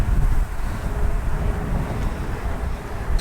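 Strong wind buffets the microphone on an exposed hilltop trail beside a bombing range, a steady broadband roar with low gusty rumble throughout and no voices.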